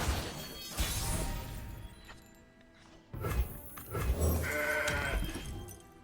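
A mountain goat card bleats in the digital card game Legends of Runeterra, a short animal cry among game effects and a crash-like impact, with no talking.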